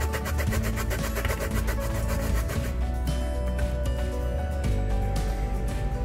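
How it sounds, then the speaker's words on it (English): Fresh ginger rubbed back and forth over a small kitchen grater while preparing brinjal donburi, a steady close rasping scrape with rhythmic strokes over low background hum, no talking. "we're just going to rub this over, and we'll just mash up the ginger"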